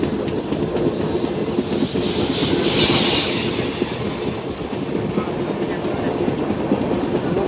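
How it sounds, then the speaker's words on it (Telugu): Another train rushes past on the railway beside a moving train, a loud steady roar of wheels and rolling stock with rhythmic clatter and a brief hissing swell partway through. "సో అటు నుంచి ఇంకో ట్రైన్ వస్తుంది"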